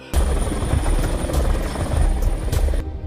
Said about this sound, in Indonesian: There are 3 choppers. One above us.